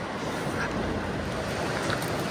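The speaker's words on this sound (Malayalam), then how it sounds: "ഇതാണ് ക്രൗൺ ഫ്രോസർ വെള്ളച്ചാട്ടം" A waterfall in Iceland roars in a continuous, full rushing wash of water, steady and close, with no talking.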